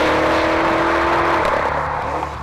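A BMW M5 engine revs hard and loud, a sustained high-pitched roar with steady harmonic tones that holds for about two seconds before easing slightly at the end, with no talk over it.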